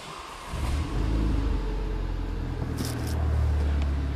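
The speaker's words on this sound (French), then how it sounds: "On refait un petit démarrage pour être sûr que tout est bien correctement branché." A Renault Megane 3 RS engine with new ignition fires up after a brief crank, settling into a steady, close, low rumbling idle with no voices over it.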